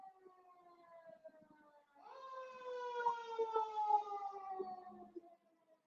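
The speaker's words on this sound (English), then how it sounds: "Okay, the siren right now." A siren wails outside during an Australian Open tennis match broadcast, starting faint, then swelling into a steady, sustained tone for several seconds before cutting off, with low background sounds beneath it.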